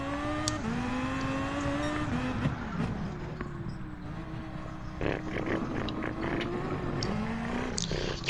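Race car engine in the Gran Turismo video game, driving steadily on auto drive with a continuous droning tone that shifts pitch through gear changes and occasional revs, loud and constant throughout.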